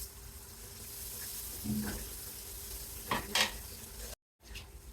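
Fried potatoes being stirred into spices in a pan for a Bengali fish curry, with soft sizzling and a few scraping stirs and clinks of the utensil against the pan, no talking.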